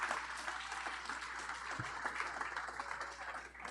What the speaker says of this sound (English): And that deserves wild applause